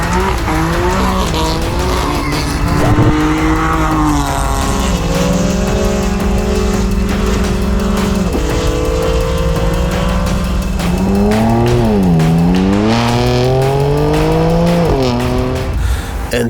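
An old BMW M4 with about 20,000 miles, driven in 33°C heat, revs hard and spins donuts, the engine note rising and falling loudly with squealing tires, close and continuous.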